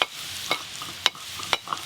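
A spoon stirs fried potatoes through poppy seed paste in a pan, making soft scraping strokes with a sharp clack roughly every half second over a faint background sizzle.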